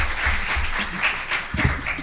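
Applause from a seated audience after a talk at an academic presentation, a steady wash of many hands clapping at moderate distance, continuous for a couple of seconds with no voices.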